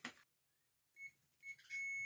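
A multimeter gives short, thin continuity beeps while a fuse from a Henry hoover is tested, with a faint click first, then two brief tones and a longer sustained beep, all close and quiet.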